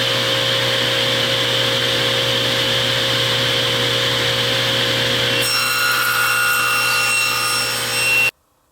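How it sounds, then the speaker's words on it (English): A table saw blade makes a 1-inch test cut through wood, a steady loud whine and rasp of the blade biting the board that shifts in tone midway, then stops abruptly. "So let's move it over to 1 inch, and we'll do a test cut."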